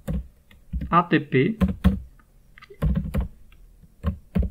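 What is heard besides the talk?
typing commands on a computer keyboard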